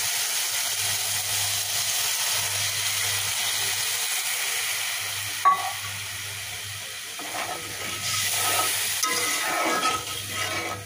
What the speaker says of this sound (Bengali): বরবটিগুলো কষা হয়ে গেছে, এবার আমি সিদ্ধ হওয়ার জন্য ঝোলের পানি দিয়ে দেবো